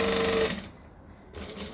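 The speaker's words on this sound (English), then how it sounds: "So now I'm just going to stitch and back stitch over some of the previous stitches" A sewing machine stitches and back stitches over earlier stitches to close a fabric seam, a close steady motor whir that runs for about half a second, drops away into near silence, then starts again briefly.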